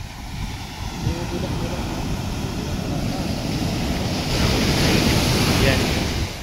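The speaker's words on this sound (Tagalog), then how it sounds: "Ang lalaki ng alon, no?" Ocean waves surge and crash continuously with heavy wind rumble on the microphone, building louder toward the end.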